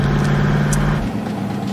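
A car engine hums steadily at idle, loud and close, with a low rumble that cuts off about a second in, leaving a quieter rough tail.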